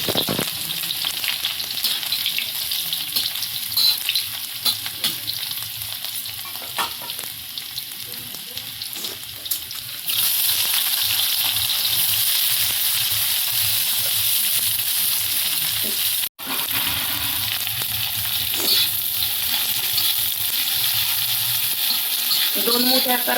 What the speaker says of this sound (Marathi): आता आपण तेल गरम झालेलं आहे, तर लसूण घालून घेऊया.